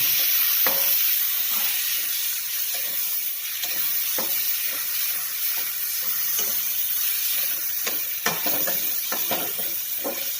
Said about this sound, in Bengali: এখন আমি আবার ঢাকনাটা উঠিয়ে নিয়ে নেড়ে দিচ্ছি ভালোভাবে